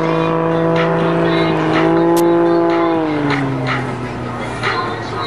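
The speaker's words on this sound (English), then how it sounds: "Sliding that airplane right now in an aggressive slip." Skip Stewart's aerobatic airplane howls through an aggressive slip at the Janesville, Wisconsin air show, a loud, close engine drone whose pitch sags and shifts midway while a voice speaks over it.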